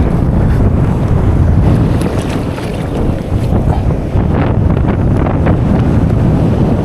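Strong sea wind roars across the microphone aboard a small fishing boat, a loud continuous buffeting rumble with gusting swells and water noise, no one talking.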